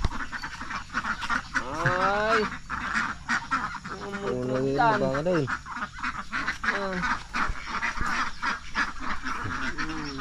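Ducks quacking repeatedly in a rural setting where ducks are being herded, harsh nasal calls coming in irregular bursts, with people talking nearby throughout.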